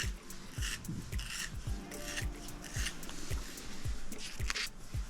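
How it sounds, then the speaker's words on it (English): A sky blue colouring pencil is ground in a sharpener, giving a steady rasping scrape with regular rhythmic turns about every half second, close and continuous throughout. "I'm going to start off with my sky blue light, just give it a sharpen."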